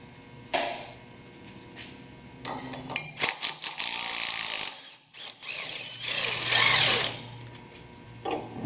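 A ratchet wrench loosens a sway bar link bolt on a 100 Series Land Cruiser. Sharp clicks and whirring come in uneven bursts, close and loud, with pauses between strokes.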